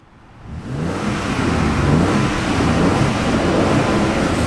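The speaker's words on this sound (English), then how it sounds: "I'm going to rev the engine up." A 2007 Dodge Ram 1500 V6 engine revs up from a low idle into a loud, sustained roar that holds steady for several seconds, with some wind rush, no talking.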